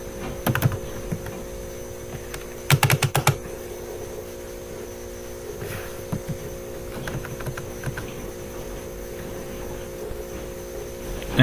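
Sparse bursts of computer keyboard typing while Turbo Pascal code is entered, quick clustered key clicks over a steady electrical hum, with a few isolated taps between.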